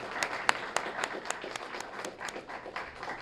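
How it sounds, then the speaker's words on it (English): Small audience at a Student of the Month recognition event claps for honored students, a sparse round of separate hand claps at moderate distance, fairly quiet with a thin roomy wash behind them. "Let's give them a round of applause."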